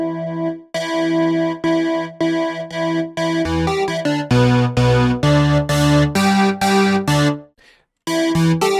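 A synth lead made in FL Studio, run through a resonant low-pass filter with its own envelope, plays a loud, bright melody of punchy rhythmic notes whose tone opens and closes with each note, with one brief gap near the end.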